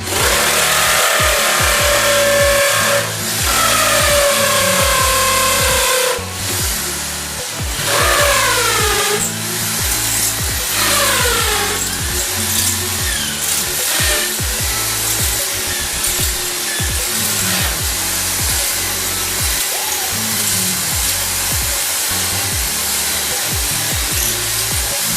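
An electric drill bores holes into a wall to mount an open-line wash basin, whining loudly in repeated bursts that rise and fall in pitch as the bit bites, close and continuous.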